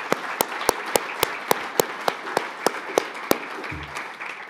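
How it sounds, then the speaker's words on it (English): An audience at a New Zealand transport conference applauds, a fairly faint wash of clapping marked by a regular beat of sharper, closer claps that fades out toward the end. "Round of applause, please, for the Honourable Michael Wood."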